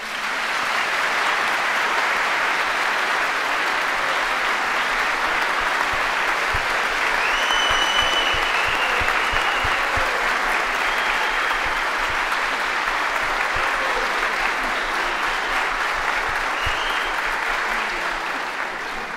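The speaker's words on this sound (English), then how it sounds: "Give the entire team a big round of applause." A concert audience gives the team a long, loud, sustained round of applause at a Christmas concert, a thick continuous roar of clapping with faint cheers and whistles rising above it.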